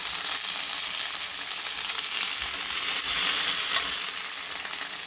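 Chicken breast sizzles steadily in a pan of black pepper sauce, a dense continuous frying crackle with occasional stirring scrapes, close and even throughout with no talking.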